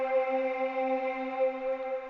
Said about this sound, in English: I picked this digi-choir,